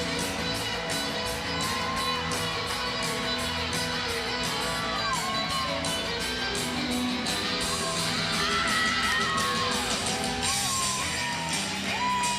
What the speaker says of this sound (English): I love how the crowd reacts too to her routine.